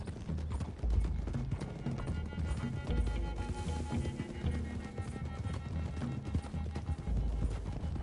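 Several horses clip-clop along a road in Red Dead Redemption 2, a steady, dense patter of hooves over a rumbling outdoor bed, moderately close and continuous throughout.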